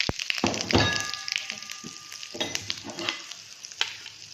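Cumin, asafoetida, turmeric and other spices hit hot oil in a pan to temper corn upma, bursting into a loud close sizzle after a thunk, then crackling and stirring as it fades.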